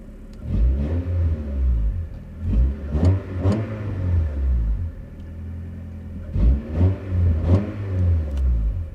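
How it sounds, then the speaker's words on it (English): A Honda Prelude engine with a Yonaka Motorsports catback exhaust revving hard in three or four bursts, a deep throaty rumbling exhaust rising and falling, close by with no talk. "But here's a few revs again."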